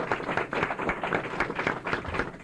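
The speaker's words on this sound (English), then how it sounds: "I think we owe Frank a round of applause." Audience applause at a 1998 Washington, DC radio roundtable, a steady, moderately distant patter of many hands clapping without a break, with no voices over it.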